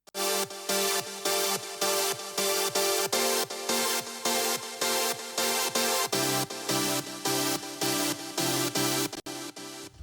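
Layered synth, piano and Operator sounds from a remix play together as a steady, loud rhythmic electronic pattern of pulsing chords with a bass shift midway, no talking.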